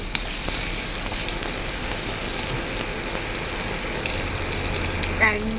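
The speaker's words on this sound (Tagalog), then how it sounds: "Gisahan natin ang ating sibuyas Holland o Bombay" Onions sauté in hot oil in a pan with a loud, dense, continuous sizzle close by. A faint tick or two of a utensil touches the pan, and a brief clink comes near the end.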